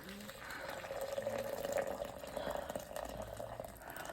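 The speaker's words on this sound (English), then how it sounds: "all we have to do is put the hot water in" Hot water poured into a mug for a honey tea, a steady trickling pour running for several seconds at close range with faint background noise.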